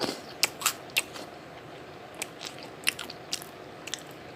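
Crunchy meringue cookies bitten and chewed up close, crisp cracking bites in short clusters separated by quiet pauses, with no talking.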